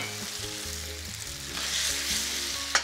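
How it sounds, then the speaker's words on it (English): Drained spaghetti sizzles with pancetta in a hot pan. A loud, continuous hiss builds stronger partway through and ends with a sharp clack, with no talking. "When the pasta is drained, I can add it to the pancetta."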